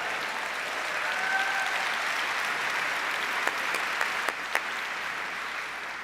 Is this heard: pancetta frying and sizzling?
no